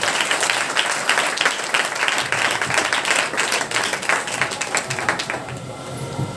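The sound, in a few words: congregation clapping to thank the Lord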